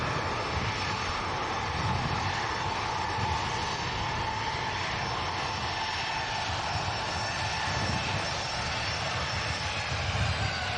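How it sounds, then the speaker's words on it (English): A British Airways Airbus A320neo jet at Manchester Airport gives a steady, sustained engine roar, a broad continuous rumble that holds even throughout, heard from a moderate distance with no talk. "BA shuttle, Airbus A320neo, heading back to London Heathrow."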